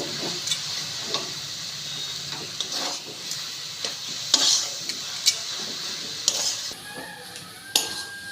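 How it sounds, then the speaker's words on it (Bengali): Banana flower and potatoes being stir-fried in a pan for a vegetarian mocha dish, with repeated scraping strokes of a spatula and light clinks against the metal over a soft, steady sizzle. "এবার সব কিছু আবারও ভালো করে কষিয়ে নেব।"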